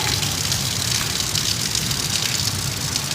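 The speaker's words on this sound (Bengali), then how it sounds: "এত জোরালো বৃষ্টি হচ্ছে হঠাৎ করে ভাবতেই পারিনি এত জোরালো বৃষ্টি হবে" Heavy rain pours down in Pakistan, a dense, even roar of drops hitting surfaces nearby, continuous and loud with no voices.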